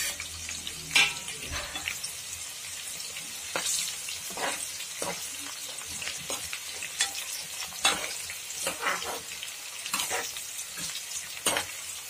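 Whole green chillies and chopped onion frying in hot oil in a pan, with a continuous close sizzle broken by sharp spatula scrapes and clinks as the mix is stirred at irregular intervals.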